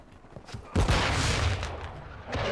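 A VTOL gunship's rapid gunfire rolls in Call of Duty: Modern Warfare II, a sudden loud burst of overlapping shots and booms that decays and picks up again, without talk.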